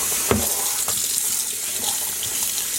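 Faucet water runs steadily while dyed sock yarn is rinsed in a sink, a close, continuous splashing hiss with a couple of sharper gushes near the start.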